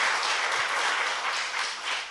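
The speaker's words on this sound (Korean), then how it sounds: "박수!" A studio audience at a Korean political talk show applauds loudly and steadily for about two seconds, a dense, even wash of clapping.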